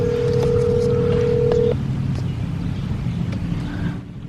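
A telephone being dialed outdoors, a steady tone sounding for over a second before cutting off, heard over wind buffeting and low rumbling background noise.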